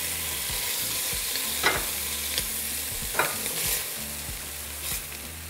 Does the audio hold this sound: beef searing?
yes